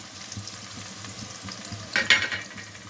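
Ginger garlic paste frying with fish eggs and onions in a pan, a low steady sizzle with soft rhythmic stirring scrapes, and a brief louder burst of spatter and clatter toward the end.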